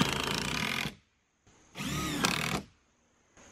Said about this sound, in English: I'm just going to put a bunch of these 2-inch screws on this side